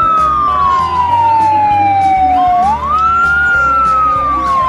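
A toy fire truck siren wails loudly and close by, its pitch sliding slowly down, then sweeping back up and down again, over a pulsing electronic drone.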